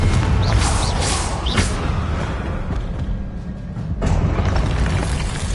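A Confringo spell blast in a Hogwarts video game duel lands as loud, booming explosions and crackling bursts that crowd together, then ease briefly before another heavy hit; no voices.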